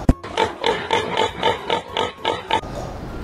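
A person imitates a pig squealing during a party guessing game, giving a series of about ten rhythmic nasal oinks and squeals, close and fairly loud, after a sharp initial knock.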